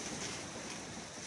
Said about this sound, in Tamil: அப்படியே கூடாரத்தை காற்று உழுப்புது